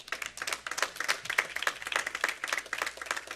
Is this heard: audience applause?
yes